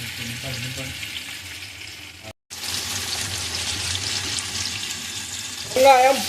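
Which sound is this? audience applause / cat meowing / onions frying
onions frying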